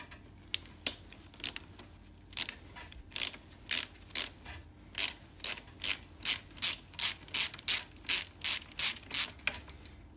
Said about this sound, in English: let's pop off this brake caliper and just release these two 5mm bolts out of here